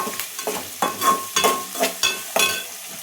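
Vermicelli lightly toasting in a pan for semiya upma, with repeated stirring scrapes in uneven bursts over a soft, steady sizzle, close and fairly clear, no voices.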